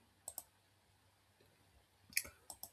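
Faint, close computer mouse clicks on an add-event button in a church event-management web dashboard, two quick double-click pairs separated by a quiet pause.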